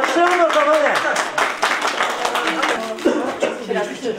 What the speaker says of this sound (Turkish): Alkışlayalım o zaman.